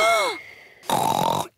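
A cartoon pig voice imitates loud snoring with two exaggerated snorts: a rasping, tonal inhale followed after a short pause by a buzzing, gravelly exhale.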